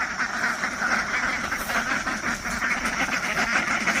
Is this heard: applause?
no